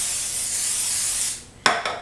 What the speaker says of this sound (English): you take regular cooking spray and spray your